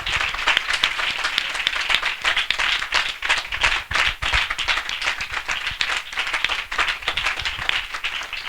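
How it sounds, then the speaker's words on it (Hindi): A congregation at a spiritual assembly meeting claps loudly and continuously in welcome, with sharp, closely packed hand claps forming a vigorous, rhythmic roar that lasts over eight seconds. "हम जोरदार ताली से उनका स्वागत करें।"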